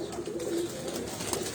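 A Sialkoti Motia pigeon coos on a rooftop, a low, soft, rolling burble repeating steadily at moderate distance, alone with no voices.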